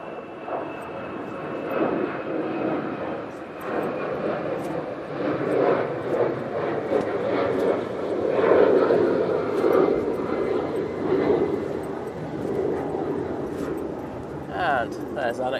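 An Air France airliner climbs steeply after takeoff with a broad, roaring engine rumble that swells and holds at steady loudness throughout.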